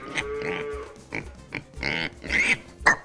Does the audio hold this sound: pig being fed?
yes